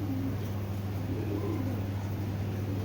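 A Giribaz pigeon, an old breed, cooing softly over steady low background hum, with no voices nearby.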